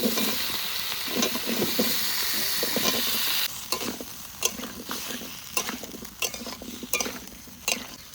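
Chunks of potato and kohlrabi sauté in a spice paste, starting with a dense sizzle that thins out to a quieter fry, broken by repeated metal clanks of a spatula stirring against the pan.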